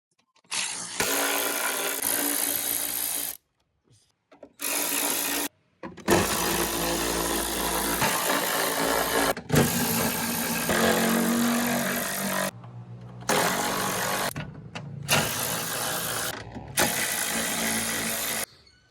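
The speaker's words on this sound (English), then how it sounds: "Now we're gonna remove all the 10 millimeter bolts." A power ratchet removes the 10 millimeter bolts during a front strut replacement on a 2016 Toyota Corolla, whirring in several loud bursts of a few seconds each, separated by short silences.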